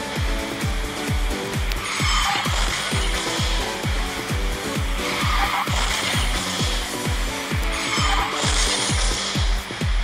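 The Bionic Dark Sea Shark car drifts in the Garena Speed Drifters racing game. A steady, rapid run of rhythmic engine pulses is joined by swelling tire squeal and skid noise, loud and continuous throughout.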